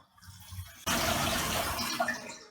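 Water is poured into a pot of cooking Sri Lankan spicy mutton, starting abruptly as a steady splashing stream that continues for under two seconds.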